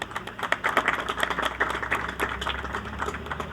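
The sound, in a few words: audience applause at event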